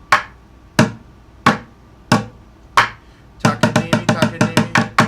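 Drumsticks strike a bucket drum, first in slow, evenly spaced single hits, then in a faster run of quick strokes, close and dry with no voices.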